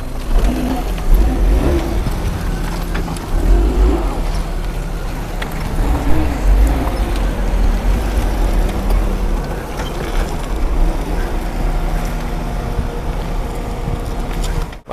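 A car being driven and then pulled up against the curb in the shade; a steady mid-pitched engine hum runs throughout with slight rises in revs, close and fairly loud, with no voices.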